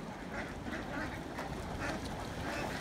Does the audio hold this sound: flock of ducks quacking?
yes